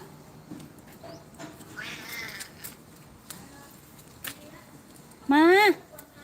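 A cat gives one short, clear rising-and-falling meow near the end, after a stretch of faint background noise while a person talks quietly nearby.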